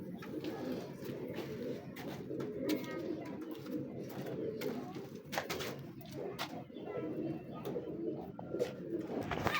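Pigeons cooing steadily throughout, adult birds together with their young in a loft, a continuous soft murmur of overlapping coos with occasional sharper calls and wing or movement sounds, fairly close.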